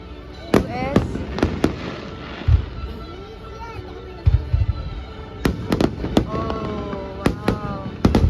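Fireworks bursting at a pyromusical show at MOA, a series of loud sharp booms and crackles, some far and some near, with a crowd cheering and people talking over them.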